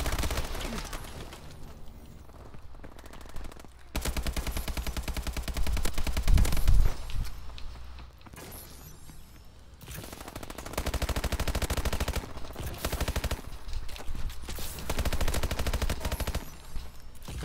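Call of Duty Advanced Warfare gunfire: long stretches of rapid automatic shots in sustained bursts, separated by brief quieter gaps, loud and close throughout.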